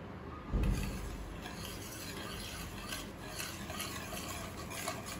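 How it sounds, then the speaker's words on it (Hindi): A spoon scrapes steadily around a pan of homemade condensed milk being cooked over low to medium heat, giving a soft, continuous rasping and stirring sound, with one brief knock near the start. "कंटिन्यूसली स्टर करते हुए ही बनाना है इसे।"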